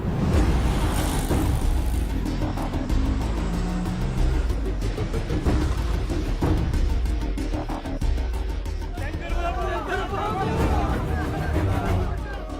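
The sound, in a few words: auto rickshaw turning and driving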